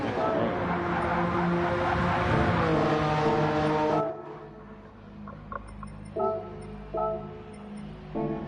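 Race car engines in Gran Turismo 7 during a Porsche Carrera Cup race at Lago Maggiore roar loudly and continuously for about four seconds, then drop away, leaving quieter tonal game sounds and a voice talking.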